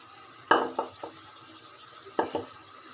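Cut eggplant goes into a pan of frying vegetables, a spoon knocking and scraping the pan in two bursts of clatter over a faint sizzle, close by with no talk.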